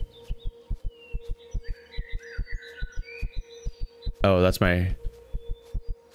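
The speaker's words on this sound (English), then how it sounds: "That's what your heartbeat sounds like in this game." Player heartbeat in the video game Empyrion: Galactic Survival after sprinting, a steady run of deep, thumping beats that keeps going under a faint background hum, briefly covered by a short spoken word near the end.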